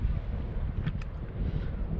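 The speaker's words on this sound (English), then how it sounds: "It's even windy here." Wind buffeting a microphone, a low rumbling roar that stays steady throughout the short stretch, with no talking.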